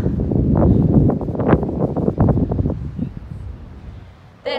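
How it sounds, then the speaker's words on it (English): Wind gusts buffet the microphone at a beach, a loud rough rushing that fluctuates in bursts and eases toward the end. "Might be too windy to hear me"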